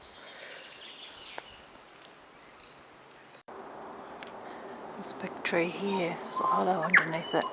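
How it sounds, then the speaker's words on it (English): A tui calls from native New Zealand bush among ancient trees and ferns at Opepe, its bright warbling phrases rising near the end while someone talks over it. "It's the sound of a tui"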